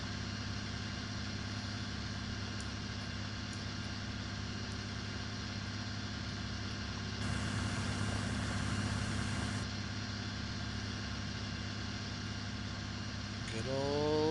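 A farm tractor's engine runs steadily through a nighttime stretch of a farming video game, a constant low mechanical hum that holds even and unbroken, swelling slightly at times, with no talk over it.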